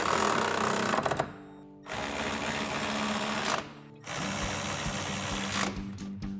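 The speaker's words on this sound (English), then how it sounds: "we're going to tighten down the lower strut bolt. So to do that, we're going to use a 15/16 wrench, an impact, and a 21mm socket" An impact wrench with a 21mm socket drives the lower strut bolt home on a RAM 1500 fitted with a 3-inch lift kit, loud and close, in three long rattling bursts split by short silent gaps.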